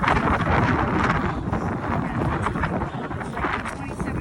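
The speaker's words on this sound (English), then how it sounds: "With the wind blowing, it makes it always colder." Strong wind blowing outdoors on a cold morning at a Jersey cow milking site, with loud continuous buffeting and rumbling gusts against the microphone and a voice partly buried in the roar.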